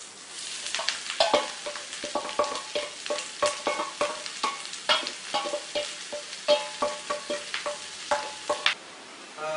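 Sliced onions and green chillies sauté in a pan under brisk, rhythmic stirring, each scrape of the spatula landing over a constant background sizzle, close and clear, with a short pause near the end.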